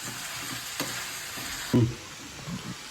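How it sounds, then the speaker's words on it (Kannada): Spices and ingredients being stirred and fried in a pan for bisi bele bath, with scraping stir strokes over a soft, steady sizzle and one louder clatter near the middle. "ಮಿಕ್ಸ್ ಮಾಡಿ ಉಪ್ಪು ಅರಿಶಿನ ಎಲ್ಲ ಹಾಕ್ಬೇಕು ಇನ್ನು ಸ್ವಲ್ಪ ಫ್ರೈ ಆಗಬೇಕು"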